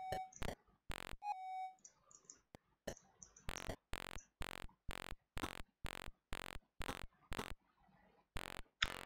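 Beeping alarm from the Dan Dare C64 video game, a run of loud, evenly spaced electronic beeps with short gaps, mixed with a few higher chirps and clicks.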